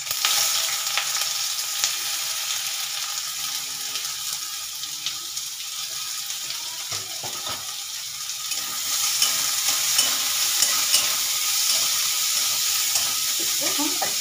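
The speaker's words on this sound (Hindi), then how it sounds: "जब तेल एकदम अच्छे से गर्म हो जाए तो तब मैं इसमें प्याज डालकर इसमें मैं भूनूंगी" Chopped onions fry in hot oil in a home kitchen, a continuous close sizzle with spatula stirring and scraping throughout, growing slightly louder and denser toward the end.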